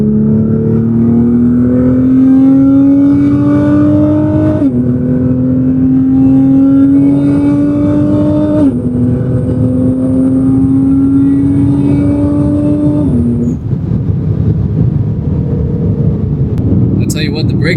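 Roaring engine of a fully bolt-on, roughly 600-horsepower car accelerating hard through several gear shifts, a loud steady drone stepping up in pitch between shifts, with wind noise and a voice talking over it.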